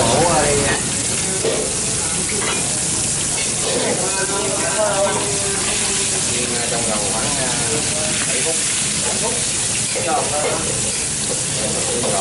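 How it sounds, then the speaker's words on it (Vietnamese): Squid coated in egg fries in a hot wok at a restaurant, a loud continuous sizzle and crackle with stirring scrapes, while people talk over the cooking. "Để cho chiên cho nó nhấp lại vàng cho nó đẹp"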